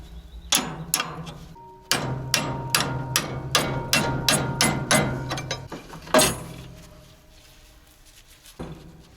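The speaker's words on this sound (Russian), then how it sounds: "Выбиваем палец, который держит натяжитель." Sharp metallic hammer blows ring out as the tensioner pin is driven from a T-74 crawler tractor's track, a rapid series of about a dozen strikes followed by a few scattered louder hits, close and alone.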